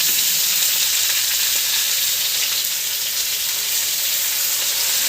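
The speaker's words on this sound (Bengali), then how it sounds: "এখন পটলটা দিয়ে দিচ্ছে।" Pieces of pointed gourd go into hot oil in a wok, producing a loud, even sizzle and hiss that runs without pause, with no talking.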